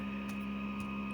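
Steady electric hum of an air conditioner running in an indoor room, a low constant drone with a faint high whine, quiet and unbroken with no talking.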